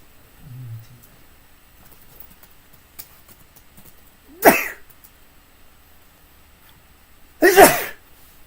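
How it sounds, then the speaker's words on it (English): Two sharp sneezes burst out a few seconds apart, close and loud, against a quiet background. "Sneeze."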